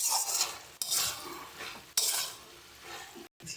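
A spoon stirs sugar into bottle gourd greens curry in a pan, making repeated scraping strokes against the metal with a faint sizzle underneath. There is no talking.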